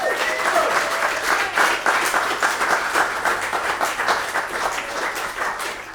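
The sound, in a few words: audience applause for a newly published author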